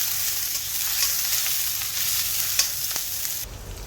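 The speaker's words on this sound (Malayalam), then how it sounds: "അപ്പോൾ അതിലേക്ക് ഒരു മീഡിയം സൈസ് സവാള ഇട്ട് കൊടുക്കാം. എന്നിട്ട് വഴറ്റി കൊടുക്കാം." Medium onion sautéing in hot oil in a pan for a Kerala-style crab roast, a steady close sizzle with light stirring scrapes and a few soft pops, ending abruptly.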